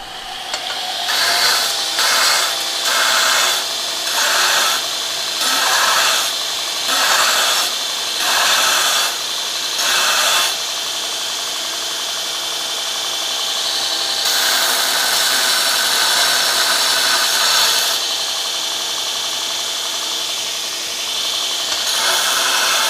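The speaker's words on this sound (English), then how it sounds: "So I'm gonna go clean this up on the grinder" Bench grinder smoothing a rough, burred cut on a forged steel piece, loud and close, first chopped into short on-off bursts, then a long sustained grind with a brief pause.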